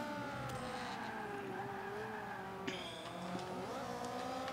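A race car brakes hard without ABS in the video game Forza Motorsport 5. Its engine note drops and shifts while the tires squeal and skid, all steady and fairly near.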